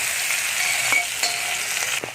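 Potatoes fry in a pan with a steady close sizzle, broken by a few light scrapes and taps of a utensil.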